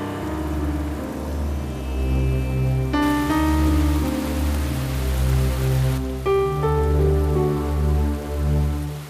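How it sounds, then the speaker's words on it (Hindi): Heavy rain pours at night, a dense steady hiss that swells louder for a few seconds, heard under a sustained music bed. "I hate this rain."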